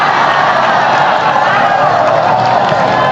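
A large audience at a religious lecture claps and cheers loudly, a dense roar of hands with shouts and whoops mixed in, heavy and sustained throughout.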